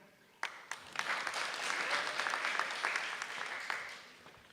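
An audience at an annual oratorical competition applauds the contestants; a few sharp claps start it, then a dense, moderate wash of clapping swells and slowly tapers.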